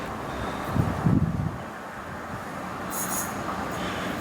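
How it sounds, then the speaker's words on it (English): A non-stopping train sweeps through platform 3 at Stalybridge station: a brief rush and rumble up close at the start, then a steady windy roar of passing carriages with a faint high hiss later, no talk. "The train now approaching platform 3 does not stop here."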